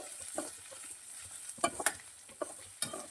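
Tomatoes softening in hot oil in a pan for buttermilk upma, a quiet low sizzle broken by a few sharp clinks and scrapes of a stirring spoon.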